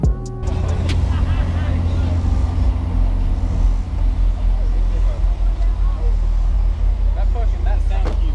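A box truck rumbles by at a car audio show, with a heavy, steady low-frequency drone throughout, a few sharp knocks at the start and faint voices underneath.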